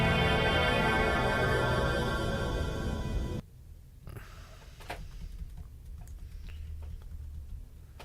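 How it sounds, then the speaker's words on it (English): The Star Trek transporter beam sound effect: a shimmering, rising electronic tone hums for a few seconds, then cuts off abruptly, leaving faint crackly noise and scattered soft clicks. "The answer is the Beam Me Up Scotty from Star Trek. That's the sound it makes when they beam you up."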